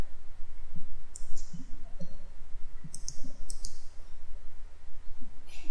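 Computer mouse clicks, sharp and close, coming singly and in quick pairs at irregular intervals over a low background hum.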